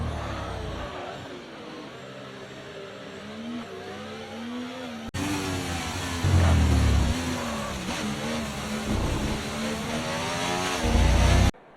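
Formula 1 race car engines roar in the F1 24 video game, a loud, steady whine whose pitch sweeps up and down through gear changes, with a couple of sharper surges from nearby cars.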